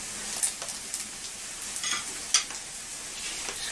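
Special fried rice is stirred in a hot pan, soft sizzling under intermittent scraping strokes of a utensil, close and steady with a few sharper clinks.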